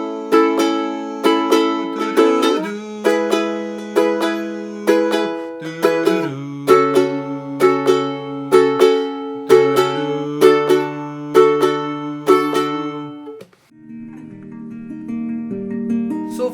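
Acoustic guitar strummed in a swung, bouncing pattern through the chords of a song, a steady run of crisp close strokes that ends with a softer ringing chord.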